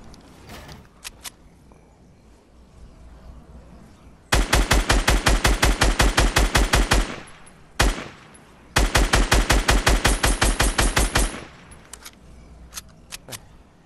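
Loud rapid automatic gunfire from the Fortnite Battle Royale game comes in two long sustained bursts of evenly spaced shots, with a single shot between them and sparse scattered shots before and after, and no talking.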